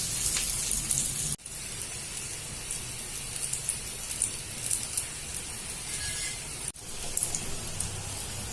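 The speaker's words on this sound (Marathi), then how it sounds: "दोन मिनिट भाजून घेऊ खरपूस" A wheat flour snack roasts in a pan on low heat, giving a soft, steady sizzle and crackle like light rain, with a couple of brief handling clunks.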